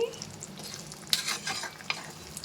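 Amla pickle being stirred in a pan just after the stove is turned off, with faint scraping strokes and a few soft spoon clinks over a low background hiss.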